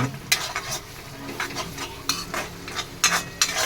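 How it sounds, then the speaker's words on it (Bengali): Ginger paste being stirred in a hot kadai, with a continuous sizzle broken by several sharp spoon scrapes against the metal, close up with no talk. "আদা বাটা একটু নাড়িয়ে নিলাম"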